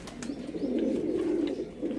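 A champion pigeon gives a soft, low, rolling coo, close and continuous over two seconds with slight pulsing, heard alone.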